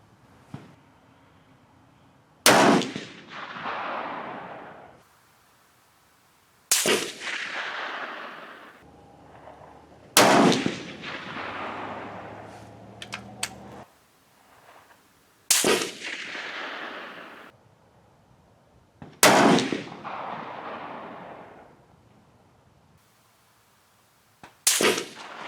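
Rifle shots from a Gruning Precision rifle and a Steyr 300M CISM firing 190 grain rounds at a range, six sharp loud cracks spaced several seconds apart, each trailing off in a long echoing decay.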